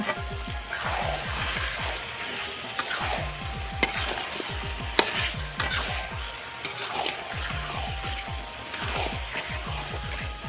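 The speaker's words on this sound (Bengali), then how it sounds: "বাটারটা গলে যাওয়া পর্যন্ত কষিয়ে নেব" Country chicken sautéed with butter paste in a pan: rhythmic scraping strokes of a spoon repeat steadily over a soft, constant sizzle, close and fairly quiet.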